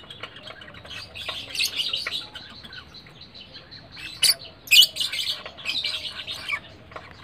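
Lovebirds chirp in a breeding cage with quick, high twittering calls and a couple of sharp louder squawks, close and fairly clear against a quiet background.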